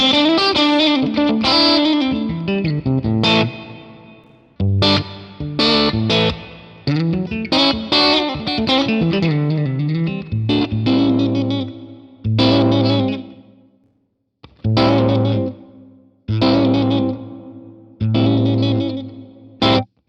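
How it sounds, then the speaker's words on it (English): Electric guitar played through a series of reverb effect types, starting with a vocal plate, with bursts of chords and phrases separated by short pauses, each ringing out with a lingering wash of reverb. "I'm going to start down the bottom with vocal plate and just kind of move up through the different types"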